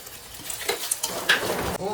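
Three cut tomatoes go into a pan where ginger has been frying, producing a soft sizzle and the scrape of a stirring spoon, with a brief trace of voice.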